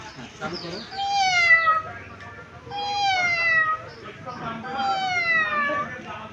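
A voice imitates a cat, giving three long, drawn-out meows with falling pitch, one after another at close range.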